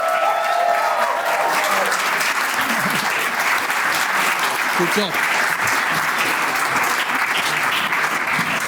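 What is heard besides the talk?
audience applause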